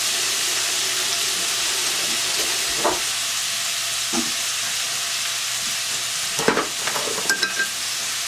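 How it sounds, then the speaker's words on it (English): Chopped vegetables sautéing in a pan for homemade chicken pot pie give a steady, close sizzle and frying hiss throughout, with a few stirring scrapes and clanks near the end. "we're just going to saute it"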